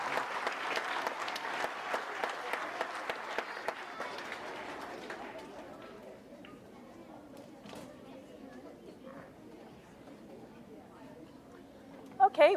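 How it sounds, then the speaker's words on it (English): Applause at a junior school assembly: a crowd of children and parents claps steadily for several seconds, then fades into quiet room murmur and chatter, with a couple of sharp knocks at the end. "Let's give them a big round of applause."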